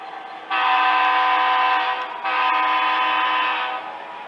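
A model railway train on a layout sounds two long horn blasts, the first sustained and the second following after a brief dip, clear and fairly loud with no voices.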